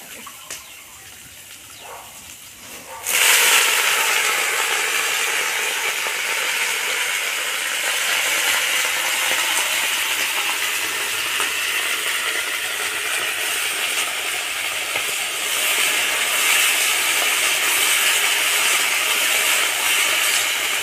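Washed spinach and Malabar spinach hit a pan of hot fried vegetables for sukto, and after a quiet start a sudden loud, steady sizzle erupts and keeps going strongly, close and unbroken.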